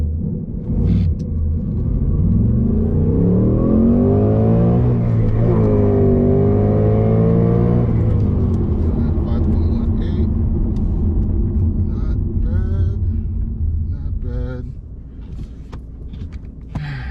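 A base-model Ford Mustang GT S650 with a manual gearbox and plain 255 Continental tires launches hard from 0 to 60, its engine rumbling loudly as revs climb through the gears, with a drop in pitch around each shift.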